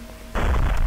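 A fragmentation grenade detonates in the shooter game Unreal, bursting into a loud, broad roar at about a third of a second that holds steady to the end, after a quieter lead-in.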